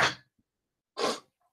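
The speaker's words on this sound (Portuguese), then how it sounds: "Ih, vou espirrar." A person sneezes at close range: two loud, breathy bursts about a second apart, with near silence between.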